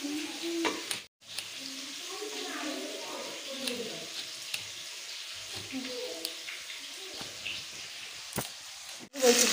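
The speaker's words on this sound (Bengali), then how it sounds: "গাজর ভাজা হচ্ছে" Carrots fry and hiss in a pan while being stirred, a steady close sizzle with scraping and clinks of the spoon throughout, unbroken by talk.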